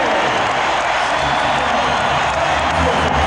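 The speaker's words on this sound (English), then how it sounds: "they are hearing it from this crowd. A standing ovation as both clubs head back to their locker rooms" An arena crowd at the 1996 NBA Finals Game 4 between the Bulls and Sonics gives a standing ovation at halftime, a broad wash of cheering and applause continuing steadily under a commentator's voice.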